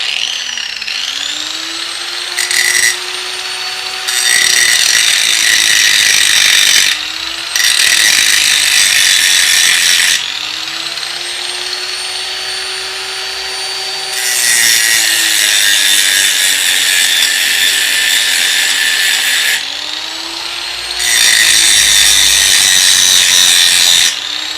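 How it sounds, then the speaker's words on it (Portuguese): An angle grinder shapes a point on a piece of wood for a decorative stud, its high whine running steadily while loud abrasive grinding bursts come and go in four long passes of contact. "Eu vou fazer na esmerilhadeira pra ganhar tempo."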